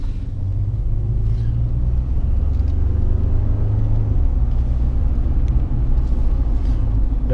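A 2011 Ford F-150 XLT 4x4 with the 3.5 EcoBoost engine idles with a steady, deep rumble, close and fairly loud throughout, with a faint breeze and no speech.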